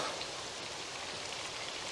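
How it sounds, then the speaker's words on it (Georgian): Heavy rain pours down in a continuous, even wash of drops, close and steady throughout the short stretch, with a small knock right at the end. "წვიმამ დაცხო რა"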